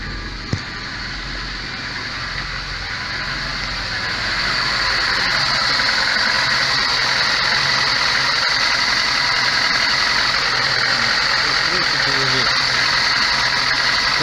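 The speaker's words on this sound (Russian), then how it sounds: "Троит и плавают обороты." VAZ 21099 engine idling roughly and misfiring, revs hunting up and down, a steady close drone that swells in level partway through and carries on without talk.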